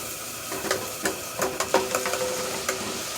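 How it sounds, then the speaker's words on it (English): Hand-cut fries sizzle in hot oil in a propane camp cooker, a steady close frying hiss broken by several rattling bursts as the basket is shaken. "I'll shake these fries."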